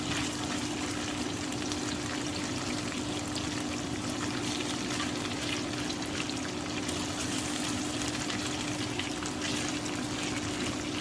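Steak searing in a hot pan for spicy birria-style steak tacos gives a steady, even sizzle and crackle that runs unbroken throughout, with no talking.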